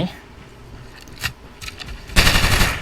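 Automatic gunfire in the battle-royale game Farlight 84, a few scattered bursts early on, then a loud sustained volley at the end, with faint talk underneath.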